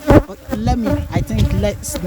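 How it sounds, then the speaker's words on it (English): Steady droning buzz of bees close by at a beekeeping site, swelling and fading as they move around, with faint background voices. "the bees are coming, so let's just fasten everything up"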